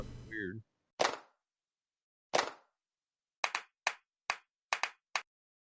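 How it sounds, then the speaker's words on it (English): Several loud, sharp hand claps ring out alone, first two spaced apart, then a quicker irregular run of six, after a brief voice at the start. "Big loud clap."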